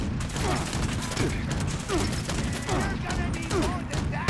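Rapid, continuous Gatling gun fire from Fallout 76, a dense sustained volley close up with mechanical clatter running the whole time while a voice talks over it.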